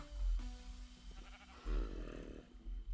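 Sheep in the game Minecraft give a few short, quiet bleats with a wavering nasal tone, one near the start and another midway, over faint background sound.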